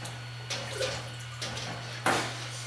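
Water is ladled through a wire sieve and poured into a jug while making mead, giving soft splashing and trickling pours in short bursts over a steady low hum, close and fairly quiet.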